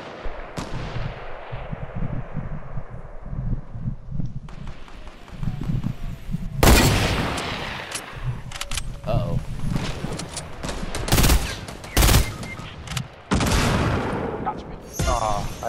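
Fortnite gunfire crackles in repeated loud bursts and single shots across a busy stretch of gameplay, with heavy impacts and game effects mixed in and a player talking over it.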